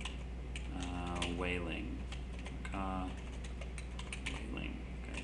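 Quick keystrokes on a computer keyboard, fairly close and moderately loud, while someone talks over the typing.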